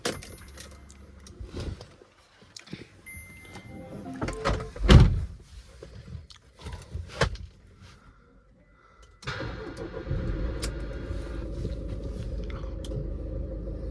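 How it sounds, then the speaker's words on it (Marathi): A car engine cranks and catches, then settles into a steady low idle rumble after some clicks and thumps of handling nearby. "स्टार्ट करूया काय आपण गाडी"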